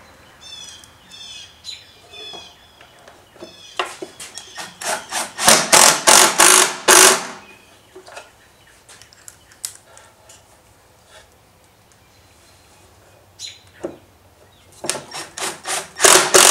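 A power drill drives a large quantity of screws into wood while building a step, with bursts of whirring and grinding spread over the clip, loudest around the middle and again at the end, alongside quieter bird chirps.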